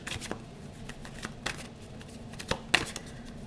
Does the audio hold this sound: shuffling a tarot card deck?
yes